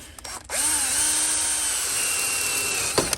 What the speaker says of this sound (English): got us a fun little drill to use